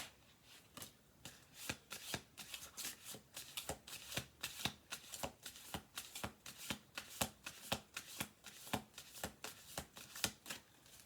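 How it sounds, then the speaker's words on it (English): Cards being shuffled in quick, steady riffles, a rapid run of crisp flicking snaps over about ten seconds, close and clear with no talking. "let's do this one more shuffle because we got 3 cards"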